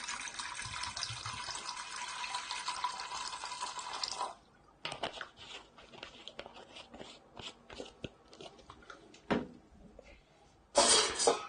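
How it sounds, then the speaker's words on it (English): Water pours steadily into the bottom of a laboratory steam steriliser for about four seconds, followed by clinks and handling noises, then a brief final rush of water. "put sufficient volume of water to cover the bottom of the steam steriliser"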